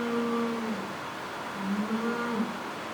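A person imitates a cow's moo with the voice, drawn-out low hums in two stretches across three seconds, fairly close, with soft room noise behind and no other talk.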